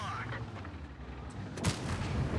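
Tank cannon fire in World of Tanks, with a single heavy boom partway through followed by a rumbling tail, set against low battle ambience.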